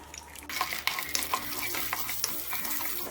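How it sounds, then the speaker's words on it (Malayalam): Cashew nuts frying in ghee for Kerala halwa appam, a soft steady sizzle with scraping stirs and light clinks of a spoon against the pan throughout. "ഇനി ഇത് ഈ നെയ്യിലേക്ക് ഇട്ടിട്ട് ഒന്ന് ഫ്രൈ ചെയ്ത് കൊടുക്കാം"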